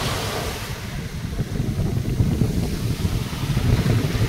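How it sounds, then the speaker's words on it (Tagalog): Ocean waves roll and wash steadily, a broad rushing surf with some wind buffeting, rising slightly toward the end. "Ayan, malaking alon."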